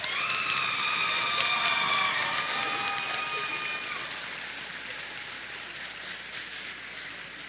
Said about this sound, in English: Would you guys give me